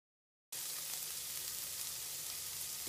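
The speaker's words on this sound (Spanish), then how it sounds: "Vamos a poner esto a sofreír." Chicken breasts and vegetables sautéing in a pan, a steady close sizzle starting abruptly and holding evenly throughout.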